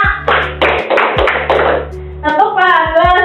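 Group hand clapping in an Indonesian microteaching class, several bursts of claps in a steady rhythm alternating with a teacher's spoken chant, close and fairly loud.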